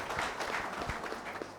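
A group of soldiers applauding together, a dense patter of many hands clapping at moderate distance for a short burst.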